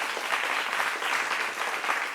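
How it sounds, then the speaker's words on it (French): Studio audience applause on a television talk show, a short burst of dense, steady clapping heard on its own. "félicitations, on peut l'applaudir pour ça."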